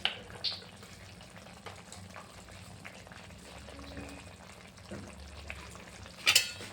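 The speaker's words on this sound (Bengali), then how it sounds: "নামানোর আগে আমি একটু সর্ষে তেল, কাঁচা সর্ষে তেল ছটিয়ে দিচ্ছি" Pabda fish curry in a pan sizzles softly as raw mustard oil is sprinkled over it, a low steady crackle with a couple of sharp clatters near the end.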